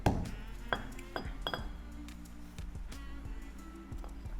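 A spoon scrapes and clinks against a mortar and bowl as chili paste is scooped out, a run of close, light clinks and taps with short ringing tones.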